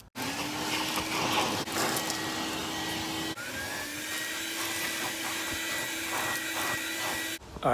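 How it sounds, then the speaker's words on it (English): A vacuum cleaner drones steadily at close range while cleaning out a car, its whine briefly interrupted and shifting a few times as it is moved around. "So I'm gonna go out there and vacuum and put the mats in."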